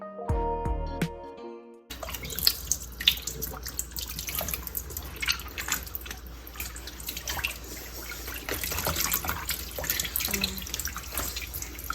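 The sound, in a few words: water running while washing chitlins in sink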